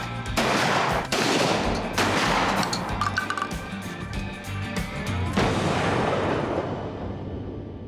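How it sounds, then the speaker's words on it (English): Shotgun blasts at clay targets during a conservation camp shooting session, several loud booming reports spaced a second or so apart with echoing decay, heard outdoors without speech. "let them apply some of these skills they learned with the shotgun, see if they can handle it safely while they try to shoot some clays"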